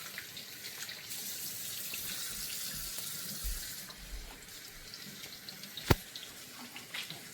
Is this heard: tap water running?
yes